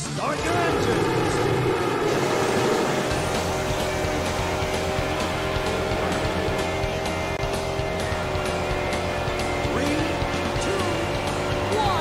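Racing car engines start up and roar in an arcade racing game running in the Supermodel3 emulator, a dense, loud, steady engine drone with tonal whine continuing throughout, after a brief softer opening.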